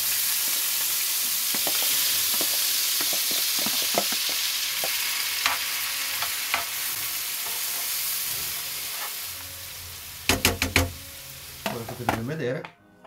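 Onions frying in browned butter, a steady hiss of sizzling with scattered scraping stir strokes, followed near the end by a few loud clattering utensil knocks and renewed stirring.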